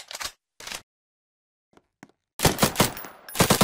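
Gunfire from a player's gun in the Roblox video game: two short bursts, a pause with faint clicks, then a longer, dense volley of rapid shots.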